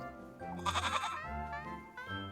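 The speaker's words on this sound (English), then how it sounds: "And that goat of yours, Rosen." A goat bleats in a video game, a wavering cry of about a second rising over the game's music, with a fainter second bleat following.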